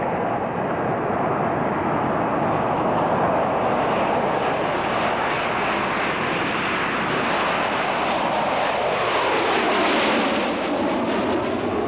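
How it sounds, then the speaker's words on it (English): A B-2 stealth bomber flies past with a loud, steady roar that builds and sweeps through a rising, shifting whine near the end, heard alone without voices. "The B-2 stealth bomber."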